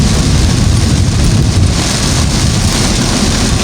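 Heavy rain pours down in a dense, continuous roar, loud and unbroken throughout with no voices.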